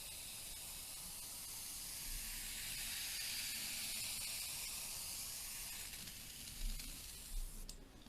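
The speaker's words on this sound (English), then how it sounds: "I'm now going to give it a light, very light, fine mist" Honey-coloured spray paint goes on as a light, fine mist, a steady soft hiss lasting several seconds with a few faint knocks near the end, quiet and without speech.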